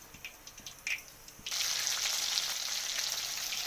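Dried red chillies hit hot oil in a wok after a few quiet clinks, bursting into a loud, steady close sizzle that carries on without talk.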